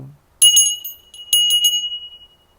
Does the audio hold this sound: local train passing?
no